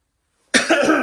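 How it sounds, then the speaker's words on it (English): A woman gives a single sharp, close, loud cough indoors in a modular home, preceded by silence and tailing off into a brief rasping breath. "my cough is trying to come back"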